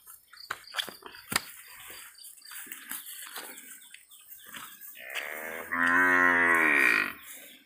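A cow moos loudly and close by in a cattle shed at a traditional Balinese palm-sap farm, one long drawn-out call near the end, preceded by scattered knocks and faint shed noises.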